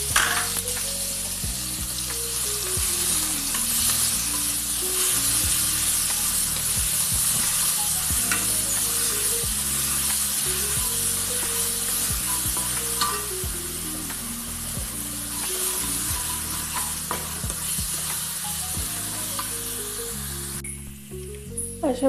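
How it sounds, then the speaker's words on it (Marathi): Green chili and garlic frying in hot oil, giving a steady, even sizzle with occasional stirring, heard close throughout under a background melody. "लसूण आणि मिरची थोडंसं लालसर झालेलं आहे"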